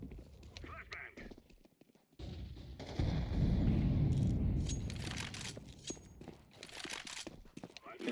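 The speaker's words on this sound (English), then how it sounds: "Flashbang." Gunfire and a flashbang blast go off in a tactical shooter video game, with sharp bursts and rattling shots, a heavy sustained blast in the middle, and a player talking over the action.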